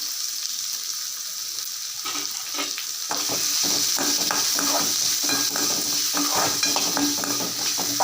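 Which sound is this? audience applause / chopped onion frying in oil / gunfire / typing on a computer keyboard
chopped onion frying in oil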